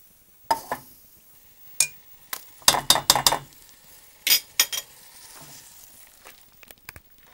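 Chai ingredients for a homemade digestive tea are tipped back into a saucepan, producing scattered metallic clinks and clattering knocks, with a denser flurry of hits in the middle and quiet gaps between.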